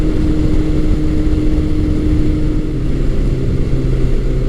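A 1984–1986 Honda Nighthawk 700S motorcycle engine held at high RPM makes a loud, close, steady droning hum with no pauses.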